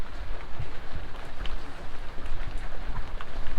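Heavy winter rain pours outside as a steady, dense hiss of drops that stays even and fairly close throughout, with no voices.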